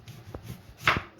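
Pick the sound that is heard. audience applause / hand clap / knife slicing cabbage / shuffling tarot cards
knife slicing cabbage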